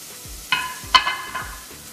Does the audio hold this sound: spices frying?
yes